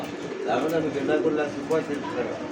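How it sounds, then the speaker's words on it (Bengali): Big Lahori pigeons at a market coo in a soft, continuous low murmur throughout, mingled with nearby chatter and background crowd noise. "বিগ সাইজের একটা লাহোরি জোড়া।"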